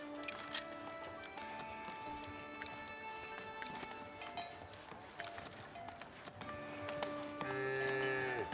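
Cattle moo in the medieval village-building game Foundation, several calls over a busy game soundscape of hooves clip-clopping and ringing tones, with no talking.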